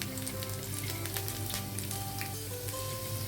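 Garlic sizzles steadily in two tablespoons of hot oil in a heated pan, a dense, close crackle that holds without pause, with a faint steady hum underneath.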